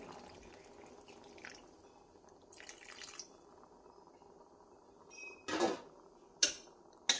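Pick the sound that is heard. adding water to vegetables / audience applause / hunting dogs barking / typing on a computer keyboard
adding water to vegetables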